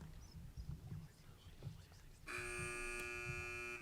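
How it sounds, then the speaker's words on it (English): Muffled murmuring and shuffling give way to a loud, steady electronic quiz buzzer tone that holds for over a second at a school quiz match. "Teams wait for the buzzer."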